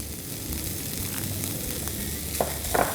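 Crushed corn and paneer filling being stirred in a frying pan, sizzling steadily throughout with soft scraping of the spoon and a couple of sharper clinks near the end.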